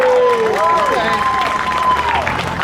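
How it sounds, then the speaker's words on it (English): An outdoor vigil crowd applauds a newly introduced speaker, steady clapping and some cheering running through, with a voice speaking over it near the start. "Give him a round of applause"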